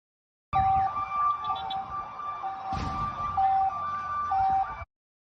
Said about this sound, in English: Watch, Israeli father protects baby during sirens.